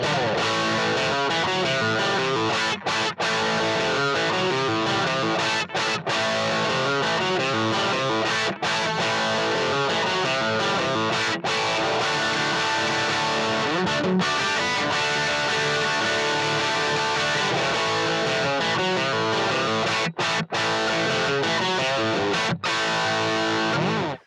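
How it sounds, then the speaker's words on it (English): A heavily distorted electric guitar plays continuously through a simulated 100-watt Marshall Super Lead into a 1x8 tweed speaker, a crunchy tone, loud and up close, with chords and riffs and no voices. "like taking a 100 watt Marshall Super Lead and running it into a 1x8 tweed speaker over here"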